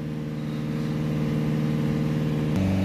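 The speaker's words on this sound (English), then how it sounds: "It's going to hold the revs above sort of 2000 RPM, 2500 RPM, anywhere between 2500 to 3000 RPM." A Peugeot Boxer 2.0 diesel van's engine is held at steady elevated revs, a constant droning hum at moderate distance, with a brief click and a slight drop in pitch near the end.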